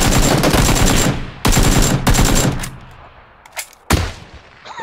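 Loud bursts of rapid automatic gunfire in a shooter video game, two long sustained volleys followed by a few sharper isolated shots as the firing trails off, with no voices.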